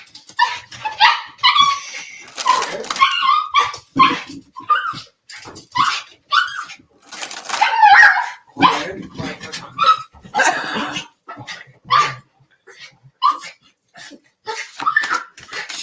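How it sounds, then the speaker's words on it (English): A small dog barks and yips repeatedly indoors, sharp bursts coming in quick irregular volleys with short gaps, close and loud, with a few whimpery notes mixed in. "she's going to start barking again"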